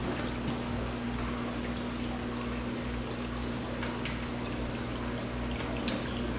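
A Marineland Penguin Pro 375 aquarium filter self-primes, with water pouring and gurgling steadily through it alongside a constant low pump hum, close and fairly quiet, with no talking.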